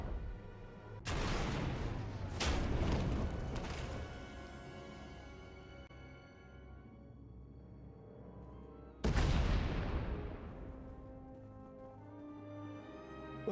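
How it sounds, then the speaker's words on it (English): Explosions boom in the SWTOR video game as a tunnel collapses: a heavy blast, a second close one, then rumbling decay and a later loud blast with a long ringing fade. "We heard explosions. The tunnel collapsed."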